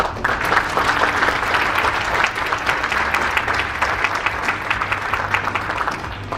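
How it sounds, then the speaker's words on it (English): Audience applause at a battery factory groundbreaking ceremony in Georgia, welcoming the SK Executive Vice Chairman: steady, sustained clapping from a large crowd filling the room. "Please give him a big round of applause."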